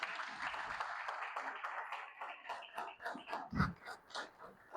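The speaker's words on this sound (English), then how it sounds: "Can we get a round of applause," Applause at a youth symposium for the board of directors, a crowd's clapping that thins into scattered individual claps, with a brief thump and a voice near the end.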